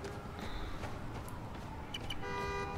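Near the end, a car horn sounds in a short, fairly clear honk over busy city street ambience in the Spider-Man: Miles Morales video game.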